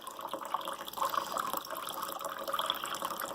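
Drink liquid pours slowly from an MRE pouch into a glass, a continuous thin trickle and gurgle with small splashy bursts, close and steady throughout.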